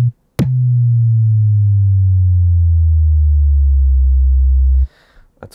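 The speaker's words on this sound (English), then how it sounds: "So let's say for our sine wave we want to have a little envelope on it." Roland MC-909 groovebox sine wave with a pitch envelope, a single loud low tone that starts with a sharp click and slowly glides downward in pitch over several seconds before cutting off abruptly.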